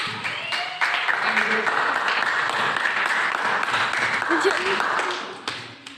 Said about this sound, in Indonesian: kasih aplaus dulu untuk kelompok B